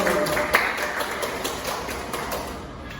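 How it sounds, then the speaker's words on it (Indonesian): Students in a classroom applaud their classmate Wahyu with a dense wash of mixed clapping. A few sharper claps stand out early, and the applause stays fairly steady and moderately loud before easing slightly toward the end. "tepuk tangan dulu buat Wahyu"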